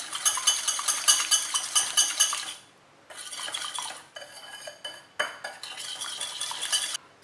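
Cookie batter being mixed with sunflower oil in a bowl, rapid rhythmic scraping and clinking of a spoon against the bowl that pauses briefly and then resumes, close and fairly loud, with no voices.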